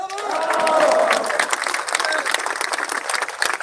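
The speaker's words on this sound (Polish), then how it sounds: "Brawa dla was!" A crowd at an outdoor political march breaks into sustained applause, dense clapping that stays loud throughout, with a voice briefly audible over it at the start.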